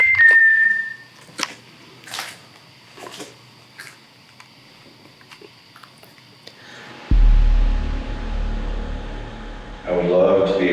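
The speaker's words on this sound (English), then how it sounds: "I just heard whistling." A short, clear whistle at the start, heard inside Waverly Hills Sanatorium, followed by quiet room tone with scattered knocks and people talking.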